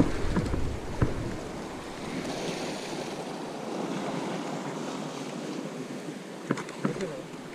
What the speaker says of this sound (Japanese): 目の前は海。